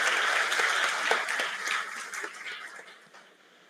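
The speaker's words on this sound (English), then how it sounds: "Can you have a round of big applause for our beautiful," An orientation-day audience applauds student volunteers, a moderate crowd clapping briskly at first and then gradually tapering off into near quiet.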